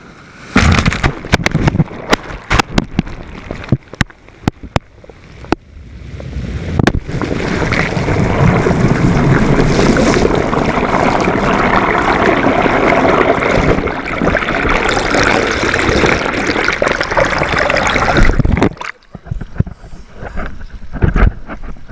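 Ocean waves crash over a GoPro camera as it is swept across coastal rocks while tailor fishing, with loud roaring water rush, sharp knocks and scrapes, and heavy wind buffeting on the microphone.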